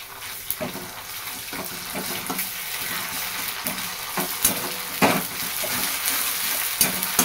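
Chopped onion and ginger-garlic paste sautéing in a pan: a constant near sizzle broken by repeated spatula scrapes and taps, with no speech.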